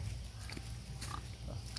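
Low grunting pigs on a rural farm in San Andres, Quezon, Philippines snuffle and oink steadily, a close, continuous animal rumble with a few faint higher squeals mixed in.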